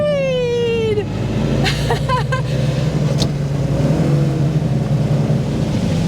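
An Austin A30 barn find, driving again after 52 years, pulls away with a steady close engine drone and rising revs, while a voice briefly speaks at the start and a few clicks sound over the engine.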